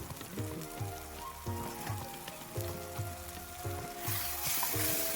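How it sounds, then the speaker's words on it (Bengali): Tomatoes frying in a pan for a dhaba-style egg curry, a spatula scraping and turning them in repeated strokes over a continuous sizzle, with a steady rhythmic pattern of scrapes about once a second. "এইভাবেই খুন্তি নাড়াতে চাড়াতে থাকবো যতক্ষণ না টমেটোগুলো ভালোভাবে গলে যাচ্ছে"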